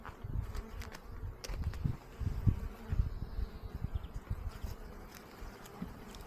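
Honey bees buzz around an open beehive during an inspection, a dense, wavering drone close by that swells and fades in pulses, with no voices heard.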